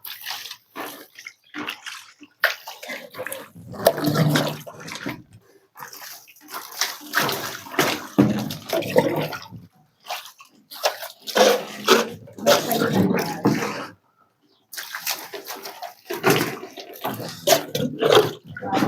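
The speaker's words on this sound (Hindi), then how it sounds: "थोड़ा डाल दे रहे हैं पानी।" Water is splashed and poured onto a dry brick wall before plastering, coming in repeated bursts of splattering and trickling, with short pauses between throws.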